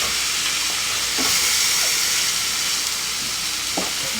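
Ground meat browns in a pan on the stove for shepherd's pie, giving a steady, loud, close sizzle with a few soft stirring scrapes along the way.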